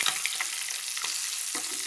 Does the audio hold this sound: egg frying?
yes